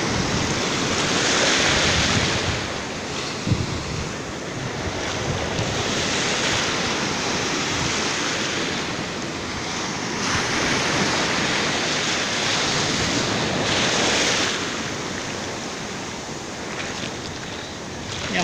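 Sea waves wash steadily onto the fine-sand shore of Varadero beach, a continuous close surf roar with gentle swells in intensity, some wind buffeting the microphone, and no talking.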